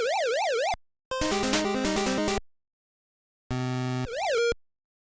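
An 8-bit NES game's police car siren, a warbling synthetic wail that starts and stops in short bursts between blocky chiptune beeps, clean and electronic with silent gaps.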